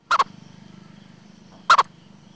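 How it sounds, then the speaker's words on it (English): Rare purple frog from India calling, two short, sharp clucking bursts like a chicken, well apart, over a faint low background hum. "It's the extremely rare purple frog, first discovered in India in 2003."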